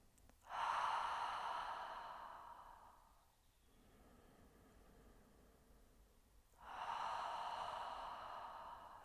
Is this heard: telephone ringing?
no